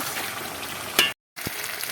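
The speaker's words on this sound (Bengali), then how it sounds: "এবার একটু ভালো করে কষিয়ে নেব" Meat curry being stir-fried (kosha) in a wok with little oil, a steady close sizzle broken by a sharp scrape and a brief cut to silence before the frying resumes.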